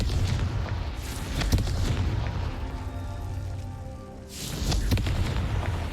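A fire-blasting spell bursts in a wizard-school video game, with a deep rumbling boom and a crackling roar that ebbs, then a second heavy burst near the end. No voices are heard.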